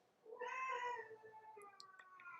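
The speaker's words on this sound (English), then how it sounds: "That's my kitty Luna whining for attention." Pet cat named Luna meowing for attention indoors, one drawn-out whiny meow trailing into a softer second call, quiet and close, with a few faint clicks.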